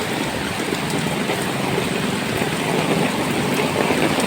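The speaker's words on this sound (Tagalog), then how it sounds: "tingnan nyo naman ang ulan" Heavy rain pours down steadily before dawn, a dense, loud, unbroken hiss with no pauses and no voices.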